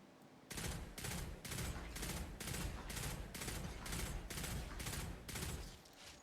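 The Polaris Lance in Destiny Rising fires into a shield in a slow, even cadence of about ten loud, heavy shots, each a sharp blast with a brief ringing tail, spaced roughly half a second apart.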